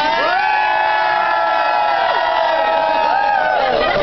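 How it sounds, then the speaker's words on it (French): A large crowd at an education-cuts protest rally in Trois-Rivières cheers wildly, with sustained loud roaring, whoops and high shouts blending into a dense continuous wall of noise throughout. "foule en délire."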